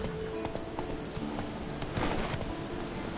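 A horse gallops in The Witcher 3 video game, with rapid, rhythmic hoofbeats that run continuously and close, with no voices heard.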